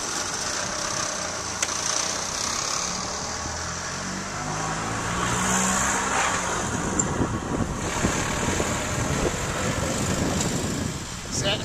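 A 1941 Harley-Davidson EL Knucklehead motorcycle cold start, with a rough low engine rumble building up close amid steady wind-like broadband noise and picking up into uneven firing pulses midway through.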